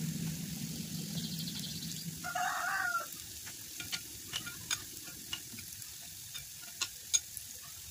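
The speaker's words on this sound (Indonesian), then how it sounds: "Setelah itu kita ambil adonannya ini untuk digoreng ke dalam wajan satu persatu." Cassava dough fries in oil in a wok over medium-low heat, a soft steady sizzle with a short scraping stir partway through and a few faint clicks afterward.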